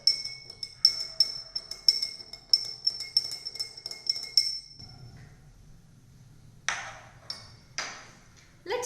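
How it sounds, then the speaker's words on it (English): A metal spoon stirs sugar into a glass of water, making a quick run of bright, ringing clinks against the glass. A pause follows, then a few scattered taps, all close and clear. "Let's take sugar and mix it with water."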